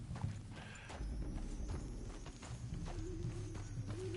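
A horse's hooves clip-clop at a steady walking rhythm in Red Dead Redemption 2, quiet rhythmic thuds over a low ambient game soundscape, with a faint tonal whine near the end.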